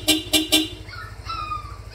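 A motorcycle horn gives three quick, loud, evenly spaced toots close by, followed by fainter tonal background sounds over a low steady hum.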